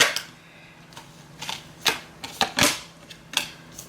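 Tarot cards are shuffled in several sharp, uneven riffling bursts close to the listener, separated by short quiet gaps, with no talk.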